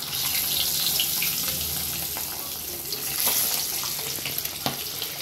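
Eggs frying in hot oil with turmeric, a dense, loud, continuous sizzle and crackle filling the space, with no voices over it.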